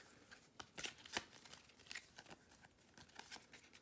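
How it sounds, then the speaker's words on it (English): Pokémon prize cards are shuffled close up in quick, soft riffling bursts with papery flicks, quiet and without talk. "then we shuffle the prize cards"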